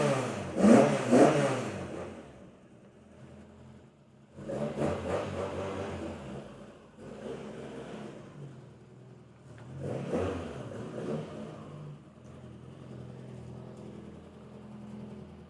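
Ford Mk1 Escort engine heard from outside the car, revving in loud bursts with quieter idling stretches between them.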